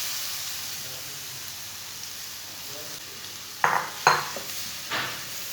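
Grated carrots drop into a hot pan of browned semolina vermicelli and start frying in a steady sizzle, with a few clanking stirs of a spoon against the pan near the end.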